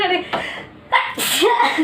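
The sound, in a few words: repeated sneezing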